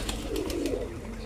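Pet pigeons kept at home give soft, low cooing calls in a short burst, close by with faint background noise.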